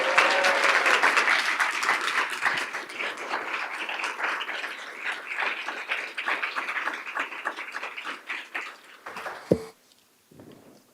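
Applause rings out at a special board of education meeting for newly elected directors, a full round of clapping from the room that gradually thins and dies away near the end, with a single knock and then quiet.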